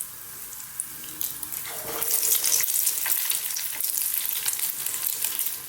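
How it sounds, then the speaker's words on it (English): Pieces of fish deep-fry in hot oil for a Chinese-style sweet and sour dish, giving a steady, fairly soft sizzle and crackle that swells slightly partway through, with no talking. "They're in the hot oil just for like 2 to 3 minutes."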